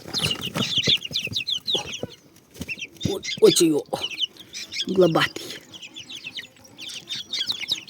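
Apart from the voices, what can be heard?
chickens clucking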